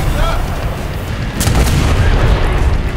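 Tank cannon fire from an M1A1 AIM Abrams in War Thunder: a loud, heavy boom lands midway through, over continuous low engine rumble and battle noise.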